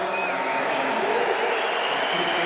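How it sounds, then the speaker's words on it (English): A large crowd at a skateboarding contest, the 2023 SLS Sydney men's knockout round, roars and cheers in a loud, continuous wash of noise with commentators talking over it. "The crowd's excited to see him."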